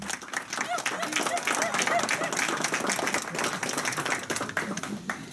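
A banquet audience in Paris claps together, a dense patter of many hands sustained throughout at moderate loudness, with voices faintly mixed in.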